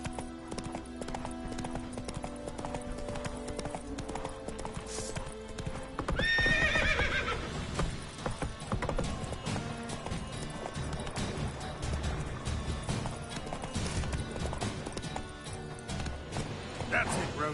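Roach the horse galloping in The Witcher 3 video game, a fast run of hoofbeats with a sharp neigh partway through, over game sounds, with a voice talking.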